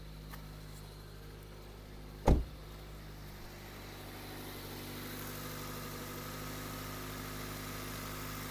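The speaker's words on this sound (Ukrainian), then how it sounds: "Перевірка стану роботи двигуна." A Toyota Avensis 1.8 idles steadily with a low, even hum, close and quiet, broken by one short sharp thump early on, with no talk.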